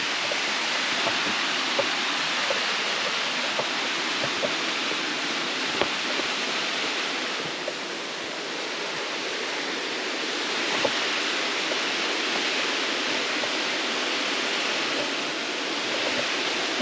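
Rattlesnake Falls cascade rushes steadily as a broad, even hiss of falling water, constant and moderately loud throughout, with no voices over it.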